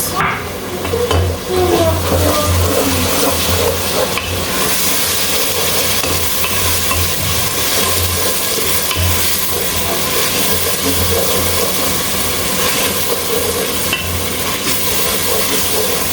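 A mix of scotch bonnet, tatashe and shombo peppers fries loudly in a pot, giving a dense, continuous sizzle and hiss throughout.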